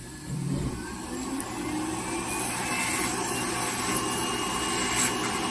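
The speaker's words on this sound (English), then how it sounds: "I'm gonna grind it down real well." A toenail grinder hums with a steady mid-pitched motorized whine while grinding down a thick, crunchy, layered toenail in a foot clinic; close and continuous, with no talking over it.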